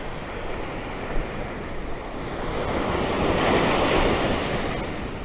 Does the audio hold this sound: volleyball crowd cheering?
no